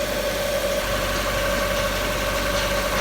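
A hot Mazda Miata engine running at a steady high idle of about 1500 RPM with the air conditioning on, a continuous even drone with a constant tonal hum, close and unbroken, with no talking.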